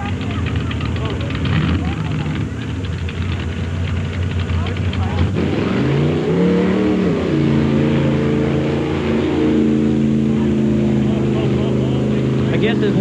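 A mud racing truck with a 396 cubic inch Chevy engine and a 1937 Fiat body rumbles loudly, its engine revving and rising in pitch partway through, with a commentator's voice running over it.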